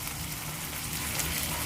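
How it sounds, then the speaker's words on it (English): Zucchini and grape tomatoes fry in a little oil and butter, giving a soft, steady sizzle and crackle that stays even throughout. "I'm frying that in a little bit of oil and butter"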